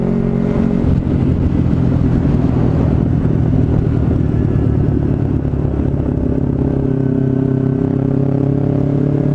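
A carburetted Kawasaki Ninja 250 motorcycle with a long header exhaust idles steadily and loudly at close range, a continuous low engine rumble with a faint mechanical clatter and no voices.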